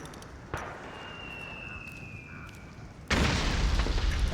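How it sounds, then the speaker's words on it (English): A sudden loud boom hits near the end after a quieter stretch with a faint whistle and thud, an explosion in Metal Gear Solid 4: Guns of the Patriots. "I heard an explosion!"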